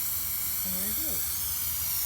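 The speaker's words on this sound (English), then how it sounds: "we're using a special spray" Grip spray hissing steadily for about two seconds as it is applied to the soles of felted slippers, a close, continuous aerosol rush with a brief murmur of a voice partway through.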